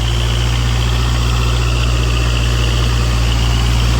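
A tractor-driven rotavator tilling soil in a field, its engine droning loud and steady at high RPM with a constant low hum and broadband rattle throughout, no voices.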